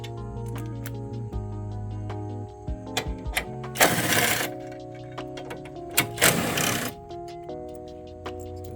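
A 10 mm ratchet working loose strut bar bolts on a Mazda Miata, close and fairly loud: quick clicking runs with two longer bursts of ratcheting over steady background music.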